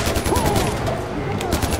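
Rapid burst gunfire from a weapon in Far Cry 4, set in the Himalayas, a dense string of close, loud shots running continuously under game ambience.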